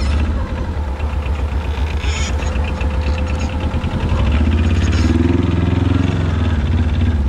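A military diesel ATV climbing out of a pond, its engine chugging steadily with a rough, knocking idle, then revving louder and deeper as it pulls up and out, close and alone.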